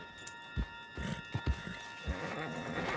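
Horse galloping in Red Dead Redemption 2, a quick run of heavy hoof thuds close by, irregular and loud over a steady background hum.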